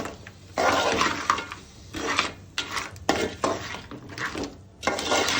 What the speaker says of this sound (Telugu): క్రాబ్స్ అన్నీ వేసుకున్న తర్వాత మొత్తం ఒకసారి మిశ్రమం మొత్తం కలిపేసుకోండి పైనుంచి కింద వరకు